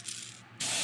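Aerosol paint sprayed onto a custom-painted crankbait fishing lure, a close steady hiss that dips briefly midway and then resumes louder and fuller, with no talking.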